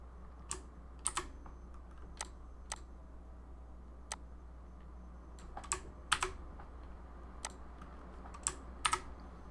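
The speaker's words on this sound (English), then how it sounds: "And then you would type the student's name in here, or you can copy and paste." Keys on a computer keyboard are tapped in sparse, irregular clicks, some single and some in quick pairs, crisp and near against a quiet low hum, as a student's name is entered.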